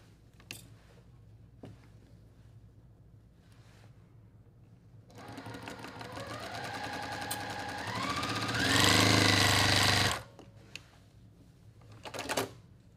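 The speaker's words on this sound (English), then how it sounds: "I'm going to sew with this on top." Sewing machine stitching quilt rows together, a steady mechanical whir that starts after a few faint clicks, speeds up and grows louder for several seconds, then stops abruptly, followed by a couple of light taps.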